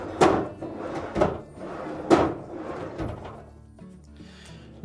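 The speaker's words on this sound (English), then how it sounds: "make sure that the hooks on the side of the pantry drop into those openings on the rails, and it should slide freely" A Whirlpool refrigerator pantry drawer slides along its rails, giving three close sliding clunks about a second apart, then a quieter stretch with faint rubbing.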